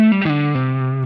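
Distorted electric guitar on the bridge pickup through a Line 6 Helix Ventoux amp model, a brief run of sustained, effected notes played close and loud on their own.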